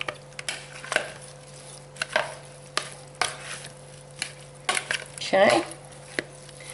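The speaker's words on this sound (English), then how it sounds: "Then I'm going to take a spoon and I'm going to mix it on the shrimp." Spoon scraping and clinking in a bowl while mixing seasoning into raw shrimp for shrimp étouffée, a series of sharp irregular taps and scrapes, close and fairly loud, with a brief spoken word.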